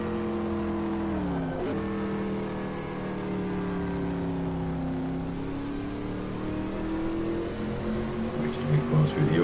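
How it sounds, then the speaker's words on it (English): A V8 car engine accelerates around the last corners of a race track, a loud, close, steady roar whose pitch dips and climbs again as it pulls through the bends. "Listen to that lovely V8."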